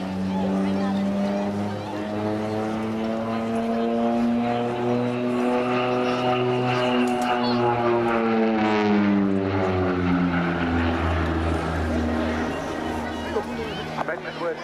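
A Rockwell OV-10B Bronco, a twin-propeller aircraft, drones past at an airshow, its loud propeller hum rising and falling in pitch as it flies by, with a commentator talking over it.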